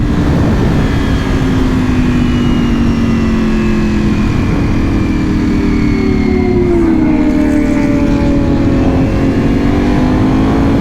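A Ducati Panigale V4S motorcycle with an Akrapovic full exhaust system roars loudly and close, its engine note sweeping up and down through revs in a continuous, dense rumble with no talking.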